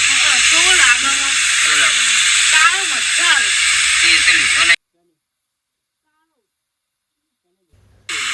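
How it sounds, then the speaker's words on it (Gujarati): Ginger garlic paste sizzles in a hot pan for an egg curry, a steady broad hiss under a voice for several seconds before cutting to silence, with brief noise returning at the end. "તો સૌથી પહેલાં આપણે આદુ લસણની પેસ્ટ નાખી દઈએ છીએ અંદર"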